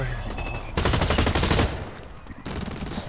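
Rapid bursts of automatic gunfire sound in a first-person shooter match of Blacklight Retribution, loud, dense and sustained, with a pause before the firing resumes, all heard close without clear talk.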